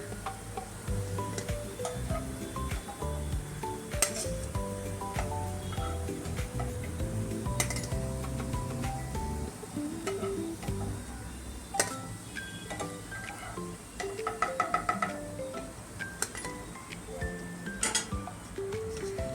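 Crisp bottle gourd vadis frying in hot oil, a continuous sizzle broken by clinks and scrapes of a utensil against the pan, with a short rattling burst near the end; nobody speaks.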